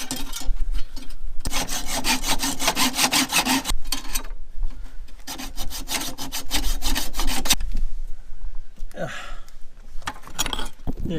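A car body part on a Subaru Forester under restoration is cut out by hand, a rapid rhythmic rasping stroke like sawing or filing metal in several long runs, broken by brief pauses and a few scraping sounds.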